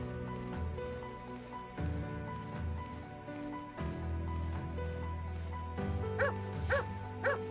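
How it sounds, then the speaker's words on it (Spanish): A dog barks in the video game Doomed Lands, a few short, sharp barks near the end over a steady bed of droning game music and patter. "Mira, qué bien que ladra Firu, me defiende."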